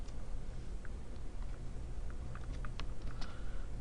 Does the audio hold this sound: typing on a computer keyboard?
yes